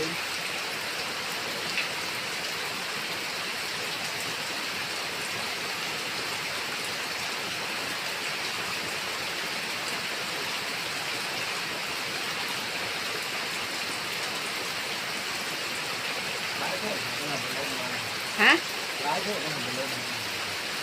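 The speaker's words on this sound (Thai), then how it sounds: "ตอนน้ำไหล" Flowing water rushing steadily in a continuous broadband hiss, close and even throughout, with a few faint knocks and a brief voice near the end.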